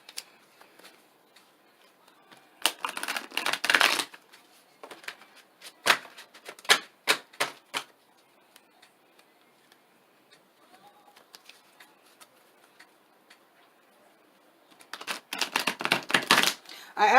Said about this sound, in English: I shuffle a little bit on camera